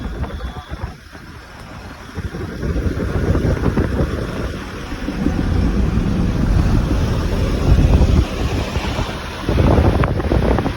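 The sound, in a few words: wind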